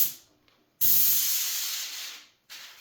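An air paint sprayer coats a room interior in two bursts: a long, strong hiss that gradually fades, then a short second spray that cuts in near the end.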